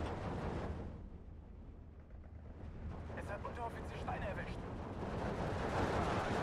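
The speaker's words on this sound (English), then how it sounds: "This artillery might prove to be quite effective, though." Artillery fire in Steel Division 2 booms and crackles in a dense wartime battle mix, with repeated blasts and gunfire building in loudness toward the end.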